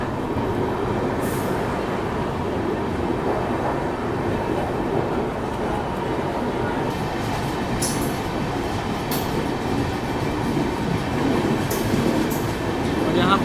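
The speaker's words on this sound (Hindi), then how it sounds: "यहाँ हमारी ट्रेन यशवंतपुर जंक्शन स्किप कर रही है।" The Bangalore Rajdhani runs through Yesvantpur Junction without stopping, a steady loud rumble of wheels and carriages from on board, with faint clicks over rail joints and occasional squeals.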